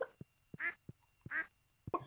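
Cartoonish duck quacks from the Stardew Valley farming game: three clear nasal calls, each paired with short soft thumps, repeating at a steady, evenly spaced rhythm in an otherwise quiet scene.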